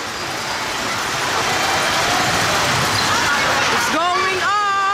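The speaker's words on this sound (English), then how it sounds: "Look at the train, Garrett." Kiddie dragon roller coaster train running at an indoor amusement park, a steady loud rumbling roar with crowd babble, then rising squeals and shouts near the end as the cars pass.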